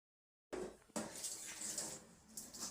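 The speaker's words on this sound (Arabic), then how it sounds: "هشطف المواعين واخلص غسيل المواعين" Dishes are rinsed and washed in a home kitchen: running water splashes steadily with clinks of dishes and cutlery, close and continuous after a brief silence at the start, with no talking.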